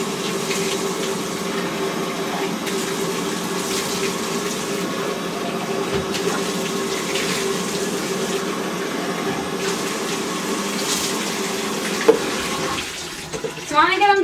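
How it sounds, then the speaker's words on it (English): Tap water runs steadily to rinse a dog before its bath, a continuous hiss and splash at moderate level, with a few brief knocks and rustles near the end. "So I'm going to rinse her off, and then we will give her a bath."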